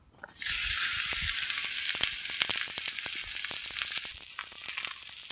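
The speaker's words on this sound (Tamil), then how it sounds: "அதை இந்த தோசைக்கல்லில் போட்டு எடுத்துக்கலாம்." A pearl millet adai, patted out on an oiled banana leaf, hits a hot dosa griddle and bursts into a loud, steady sizzle with scattered crackles, then fades slightly toward the end.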